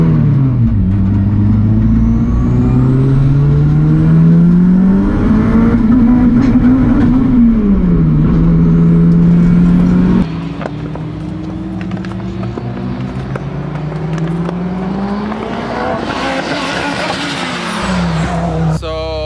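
A turbocharged Mitsubishi Eclipse race car roars loudly and close by on the Area 27 track, revving up and down through gear changes without a break.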